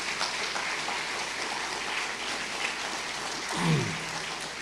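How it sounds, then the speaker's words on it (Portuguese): A church congregation applauding, a dense, steady wash of clapping heard from within the crowd, with a brief low voice rising near the end. "pode aplaudir ele mais forte"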